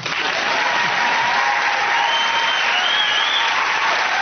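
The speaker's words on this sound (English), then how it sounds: "Now clap or leave." A studio audience gives sustained, dense applause on a television comedy panel show, loud and unbroken throughout.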